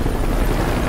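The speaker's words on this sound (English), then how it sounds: "Let's just call down the soldiers in the helicopter." Helicopter in Metal Gear Solid V, a steady, loud rotor and engine roar filling the whole moment, close and continuous with no talk over it.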